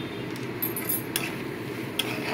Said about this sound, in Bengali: নাড়িয়ে নাও খালি